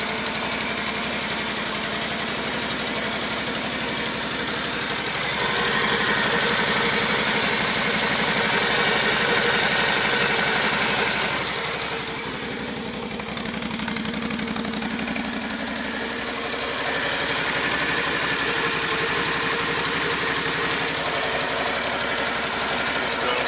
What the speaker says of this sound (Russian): давайте заведем, послушайте, как работает двигатель